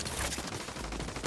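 Gunfire in the video game The Division 2, a rapid dense burst of automatic shots, loud and close with no talking.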